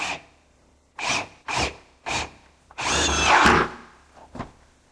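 A power drill whirs in several short bursts, then one longer run as a screw is driven into an electric fireplace enclosure, close up, with a final brief spin.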